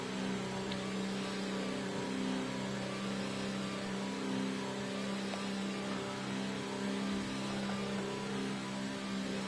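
Car engine in a PS4 racing video game, revving hard and steadily at high speed with a strong droning tone, loud and continuous with no talk.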